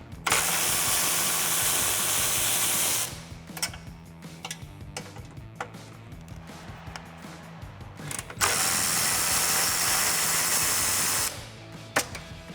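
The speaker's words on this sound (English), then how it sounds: "with my 13mm, I'm going to come up here to the hangers that are on the bottom of the cross member, and I'm going to remove those bolts" A 13mm ratchet wrench works loose the exhaust hanger bolts under a 2018-2021 Mustang GT, giving rapid, close ticking clicks between stretches of loud hissing noise.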